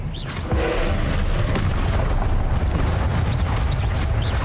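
Confringo spell explosion in Hogwarts Legacy: a sudden loud boom that then rolls on as a sustained, roaring blast with scattered crackles.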